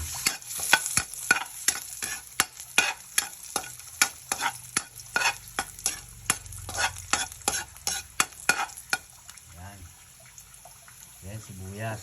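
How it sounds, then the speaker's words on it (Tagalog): Chili and garlic are sautéed in a pan with a little oil for spicy squid adobo, a spatula scraping and stirring in quick regular strokes over a soft sizzle, with a voice speaking near the end. "Ayan na siya guys, gigisa na natin siya. Ano na natin yung sili. And then, bawang."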